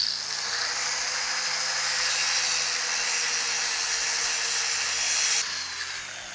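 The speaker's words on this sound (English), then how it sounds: "tidy them up just slightly with a flappy disc" A flap disc on an angle grinder grinds the edges of small steel pieces in a continuous harsh, high rasp, close and loud, easing off near the end, with no speech.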